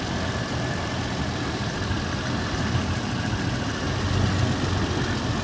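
Car engine running at idle with a low steady rumble and faint knocking, continuous and close throughout, with no talk over it.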